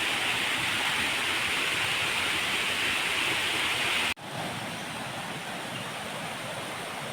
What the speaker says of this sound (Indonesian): di bawah air terjun Riam Semaba